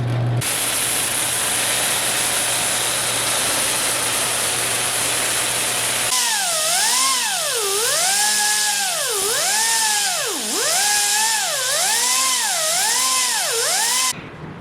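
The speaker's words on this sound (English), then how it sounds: "That's the first time that those little flap disc sanders have actually worked well at something." Small flap disc sander enlarging a drilled hole for an AFR gauge, a loud high tool whine that starts steady, then swoops up and down in repeated cycles as it grinds, cutting off at the end.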